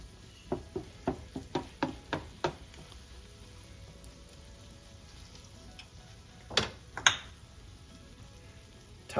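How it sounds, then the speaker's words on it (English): Bacon stirred into a frittata mixture in a pan, a run of soft evenly spaced scraping stirs over a quiet sizzle, then a pause and two more stirring sounds, close and fairly faint. "we're going to add the rest of our bacon. Mix those in a bit."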